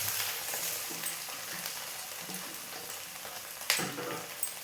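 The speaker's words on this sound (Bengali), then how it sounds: "এবার আমি একটু আলু ভাজাটা আবার ঢেলে দেবো" Fried potatoes with Maggi masala sizzling in a pan, a constant soft hiss of frying with occasional stirring scrapes and a couple of sharper clinks toward the end.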